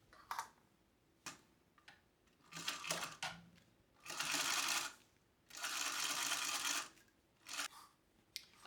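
Sewing machine top stitching a wallet at an eighth of an inch, running in several bursts, short spurts at first, then two longer steady runs, with pauses and small clicks between.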